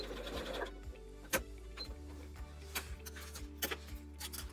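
A sewing machine hums steadily while stitching the lining of a scrappy oven mitt, with a fast regular needle rhythm broken by a few sharp ticks and clicks, fairly faint and close by.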